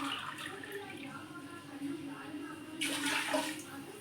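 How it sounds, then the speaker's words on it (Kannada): Water poured from a glass onto washed rice in a pot, a soft trickle followed by a louder, splashier pour near the end, close and fairly quiet. "1 ಗ್ಲಾಸ್ ಅಕ್ಕಿಗೆ ಈ ಗ್ಲಾಸಲ್ಲೇ 2 ಗ್ಲಾಸು ನೀರು ಹಾಕ್ತಾಯಿದ್ದೀನಿ."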